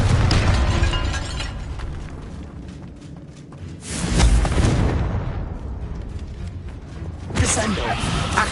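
Confringo spell explosions in the Hogwarts Legacy video game go off in a few loud, booming bursts with crackling debris. The blasts are spaced several seconds apart over ongoing rumbling game noise.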